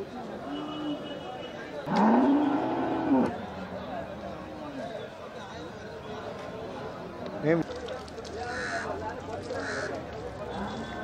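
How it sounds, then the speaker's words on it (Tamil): A Sindhi breed cow lows loudly once amid a busy cattle market at Melapalayam, a drawn-out moo standing out over ongoing chatter and people talking nearby, with another shorter sound later. "இது வந்து சிந்து மாடு."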